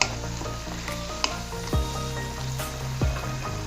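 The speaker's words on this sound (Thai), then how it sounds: "ถั่วลันตาหวานเราไม่ต้องผัดนานนะคะ" Snow peas stir-frying with minced pork in a hot pan, a loud close sizzle with a couple of sharp scraping stirs and an underlying steady hum, with no voices.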